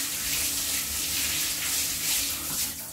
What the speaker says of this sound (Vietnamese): Giờ chỉ có xả hết xà bông là xong rồi đấy nha